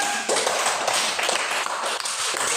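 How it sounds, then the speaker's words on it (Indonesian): A group in a classroom claps together in a steady, dense patter that stays close and fairly even throughout, with no talking. "Berikan tepuk tangan kepada Sukor"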